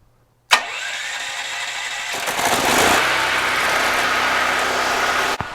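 A Firman tri-fuel generator running on propane starts with a sudden pull, then settles into a loud, steady engine drone that rises slightly as it picks up speed, close up and alone.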